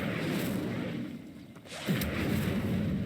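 Incendio fire spell cast in the Hogwarts Legacy video game: a dull rumbling burst of flame over a constant noisy background, flaring up sharply near the end and roaring on briefly.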